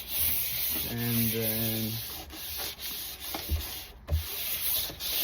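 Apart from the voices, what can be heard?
sanding and rubbing down a surfboard surface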